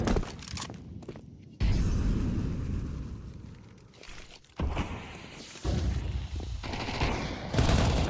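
Gunfire sprays in a competitive shooter video game, with loud bursts of rapid shots separated by brief gaps, repeating several times in close succession.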